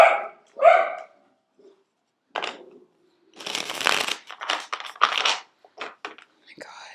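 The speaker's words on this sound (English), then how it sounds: "My dog is going crazy." Two sharp dog barks ring out close by at the start, followed by quiet rustling and a soft voice speaking.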